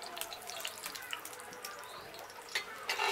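Oil spritzed in short bursts onto champignon mushrooms on a Beefmaker Pro grill, giving faint, hissy spray pulses over a low background, with a slightly stronger burst near the end.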